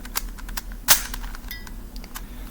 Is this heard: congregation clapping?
no